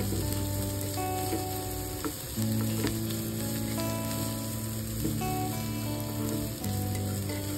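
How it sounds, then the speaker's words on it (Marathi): Capsicum and onion stir-frying in a pan, a steady close sizzle with occasional stirring scrapes that continues without pause and with no talking. "शिमला मिरची आणि कांदा थोडासा परतून घ्यायचा आहे"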